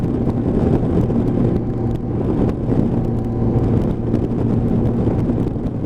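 A Kawasaki GTR1400 motorcycle cruises along at steady speed, producing a continuous low engine drone mixed with loud rushing wind noise on the microphone, heard from the rider's position.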